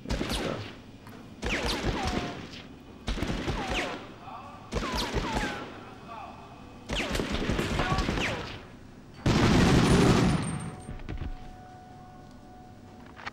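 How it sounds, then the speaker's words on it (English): Gunfire in Medal of Honor on PS1 during a buzzbomb assembly mission: several bursts of rapid shots, a couple of seconds each, with pauses between and one heavier boom near the end, close and loud. "there's definitely somebody else there shooting"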